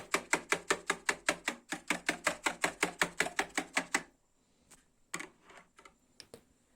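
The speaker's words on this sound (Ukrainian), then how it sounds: "за допомогою вінчика починаємо його збивати. Збиваємо піну." A hand whisk beats water into foam in a bowl, a fast even run of about twenty brisk, close clicking strokes for four seconds, followed by a few scattered taps and scrapes.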